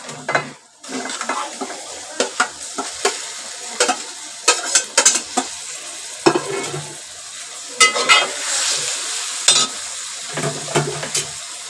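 Green Malvani fish masala hits hot oil tempering in a pan with a loud, close sizzle. Sharp spatula scrapes and clinks against the metal come in irregular bursts, with no talking.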